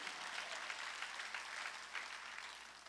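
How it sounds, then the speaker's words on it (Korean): A church congregation at a Sunday worship service bursts into sustained applause, a dense, even patter of many hands heard faintly at a distance, holding steady throughout. "박수야"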